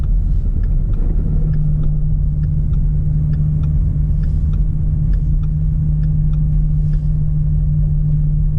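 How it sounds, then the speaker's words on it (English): A car drives in fourth gear at about 42 km/h along a snowy road during a storm in Guelph, Ontario. A steady, loud, close rumble from inside carries faint regular ticking above it, with no talk. "now I'm driving in gear 4 at 42 kilometers per hour"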